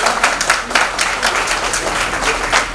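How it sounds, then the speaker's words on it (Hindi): A crowd at an Engineers Day event in a Prayagraj hotel breaks into loud, dense applause welcoming the chief guest, steady many-handed clapping sustained throughout. "एक बार जोरदार तालियों से स्वागत करें"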